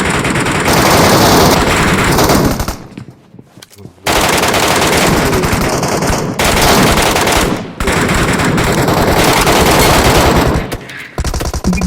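Gunfire in PUBG Mobile's Metro Royal mode: loud, sustained bursts of automatic fire with brief gaps between volleys.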